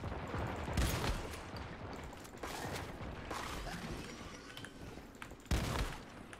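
Shotgun blasts fired at a mutant bus in the video game Once Human: several sharp, cracking shots spaced a second or more apart over a low, steady background.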